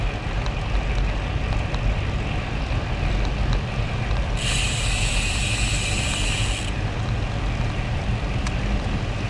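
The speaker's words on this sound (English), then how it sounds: "The wind has definitely picked up." Gusty wind roaring steadily past a cyclist riding through a forest on a blustery day, a constant close rush of air with a brighter hissing swell in the middle, no talking.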